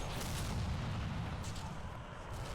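Artillery barrage in Combat Mission: Red Thunder, a low rumbling roll of distant shell impacts that keeps up steadily with no talk over it, faint and muffled.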